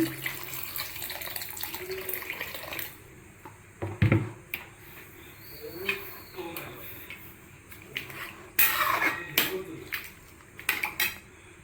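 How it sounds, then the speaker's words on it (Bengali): Water is poured into a pan of simmering ghugni, a Bengali dried-pea curry, with a brief splash and pour around the middle among clattering pot and utensil knocks at close range. "এরপর জল ঢেলে দেবো, জল ঢেলে দিচ্ছি।"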